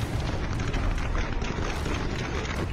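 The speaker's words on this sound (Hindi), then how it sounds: "एक तरफ भीषण फायरिंग होती रही" Heavy gunfire from security forces' guns during protests in Baghdad near the US embassy forms a dense, unbroken barrage of cracks and booms that stays loud throughout, with no voices heard.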